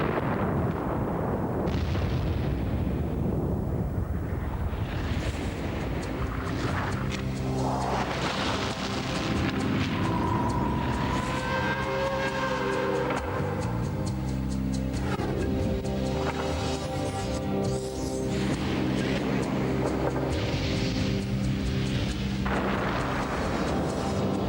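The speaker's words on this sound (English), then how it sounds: "The second-by-second sequence of events that triggered the biggest explosion ever seen in the United States." Deep rumbling blasts and rolling booms from the 1980 Mount St. Helens eruption, continuous and heavy throughout, with layered roaring surges rather than a single crack.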